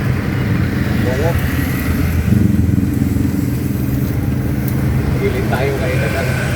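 A motorcycle passes along a road in North Caloocan, its engine droning steadily throughout under gusty wind, with people talking nearby.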